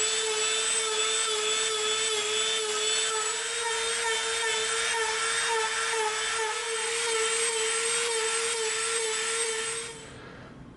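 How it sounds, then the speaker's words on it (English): Dremel rotary tool carving a taper into EVA foam for a Megaman sword blade, a steady high-pitched whine that holds for about ten seconds before cutting off, with no talking. "we're going to flip it over to this side and Dremel from here to the peak"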